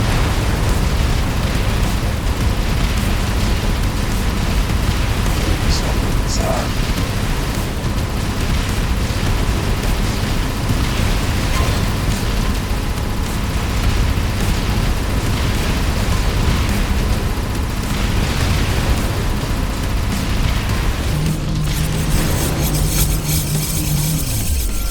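Explosions of destroyed units in the PC strategy game X-Morph: Defense, a dense, continuous barrage of loud, overlapping blasts and rumbling booms that runs throughout without speech.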